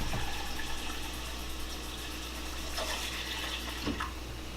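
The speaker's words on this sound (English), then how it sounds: "We're gonna fill this all the way up so the eggs are completely submerged in water." Steady rushing of water pouring from a tap into a pot, continuous and fairly loud with a constant hiss throughout.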